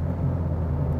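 A car, either a Toyota Veloz or a Suzuki XL7, gives a steady loud low engine drone and road rumble at around 70 as the gas pedal is pressed, heard from inside the cabin with no one talking.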